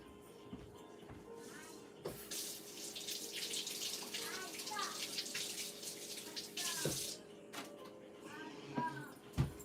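An item is washed under a running tap, water splashing and hissing steadily with brief gurgles and handling knocks, close by, while a voice talks faintly in the background.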